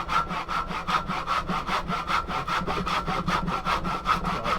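Hand sawing wooden knife handle scales for a Bowie knife tang, a close, steady back-and-forth rasp of about two to three strokes per second, with no talking.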